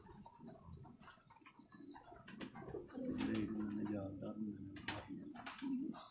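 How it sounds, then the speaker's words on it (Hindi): Pigeons, including red-eyed fancy breeds, coo in soft repeated low rolling calls, fairly close, over a background of murmured voices and light ticking sounds, growing fuller midway through. "ये कबूतर है"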